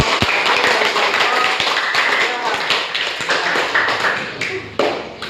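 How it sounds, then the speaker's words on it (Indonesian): Applause from a classroom group after a student discussion, a burst of many hands clapping steadily for several seconds with scattered louder slaps, fairly close and filling the room. "kita berikan aplaus untuk"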